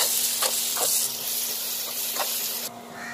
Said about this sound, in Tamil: அடுத்து நம்ம அரைச்சி வச்சுருந்தா தக்காளியை ஊற்றிடலாம்.